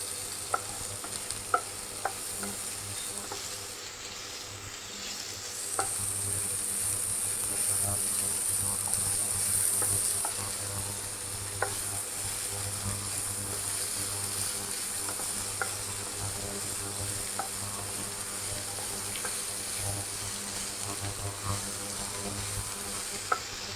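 Onions sizzle and fry in a pan for a mutton roast, with steady close crackle and occasional scraping stirs; a high buzzing tone rises briefly in the middle.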